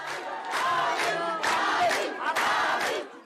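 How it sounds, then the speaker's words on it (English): A large crowd at a rally roars, cheers and chants in loud rising surges, with several bursts of massed voices close together and no single speaker standing out. "the crowd, who roared on their neighbors preparing for war"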